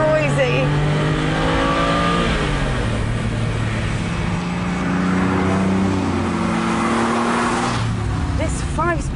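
A 2001 TVR Tuscan S sports car accelerates hard, its loud engine note climbing in pitch through the revs, loud and steady throughout, with a brief lift midway before it pulls again.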